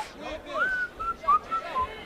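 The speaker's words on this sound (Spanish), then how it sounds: "Dale al silbido ahí," Someone whistles the melody of a 2000s song in short, bright phrases, fairly faint over a low murmur of background crowd chatter.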